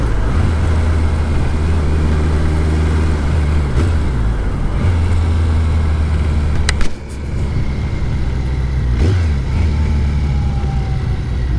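A motorcycle sidecar combination rides along with a loud, steady engine drone that rises and falls with the throttle, with a brief dip partway through and wind noise throughout.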